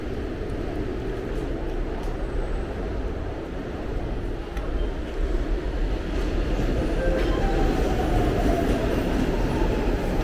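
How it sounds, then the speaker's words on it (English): A subway train rumbles into the underground 11th Street station beneath Market Street in Philadelphia, a steady low roar of wheels and rail noise that builds slightly, with faint squeals near the end. "so this is where the train comes in."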